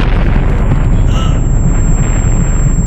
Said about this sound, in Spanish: ¡Fue una gran explosión!